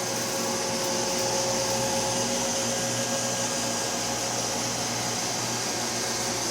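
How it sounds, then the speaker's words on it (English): A Roomba robot vacuum runs steadily nearby, its motor and brush whir forming a continuous broadband hum with a constant level and no break as it turns around on the floor. "the Roomba's just going to turn around thinking that that's an obstacle and go back in its other direction"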